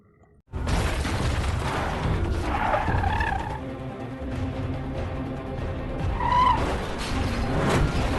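A film car chase between a gangster, a cop and a psychopath killer, with loud engines and skidding, squealing tires running continuously, plus rumbling impacts and a rising squeal near the end.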